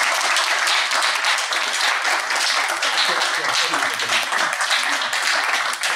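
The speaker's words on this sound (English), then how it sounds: "please give a big round of applause to our panel." An audience gives a big, sustained round of applause for a discussion panel on Gaza and Israel, dense clapping that stays loud and even for the full six seconds.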